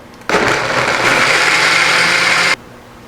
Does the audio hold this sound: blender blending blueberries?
yes